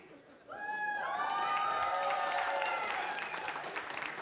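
A crowd at a robot competition bursts into applause and cheering after a brief quieter moment, swelling into loud sustained clapping with whoops and high shouts that carry on to the end.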